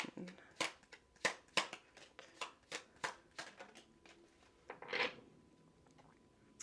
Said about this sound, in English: That's my lazy shuffle because I don't like to bend these cards.